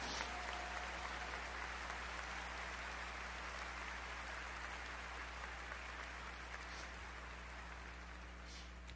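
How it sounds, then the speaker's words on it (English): Steady applause from a commencement audience honoring faculty and staff, a broad continuous wash heard from a distance over a low hum, with no voices on top. "please applaud this faculty and staff of this fabulous school"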